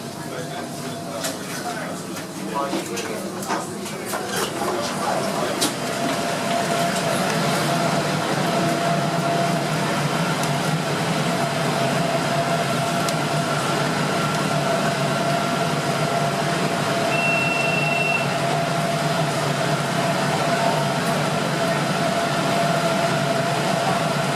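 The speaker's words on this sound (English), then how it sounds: "rode the next tram back down the extension to Dulwich Hill" A Sydney light rail tram runs along the Dulwich Hill extension, and from inside the car comes a steady rumbling hum with a faint whine and occasional rattles, loud and continuous.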